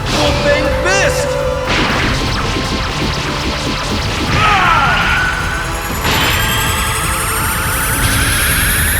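Full Bang Fist attack from a Dragon Ball game: a series of loud heavy impacts and crashes with whooshes and rising tones, layered under shouted voices.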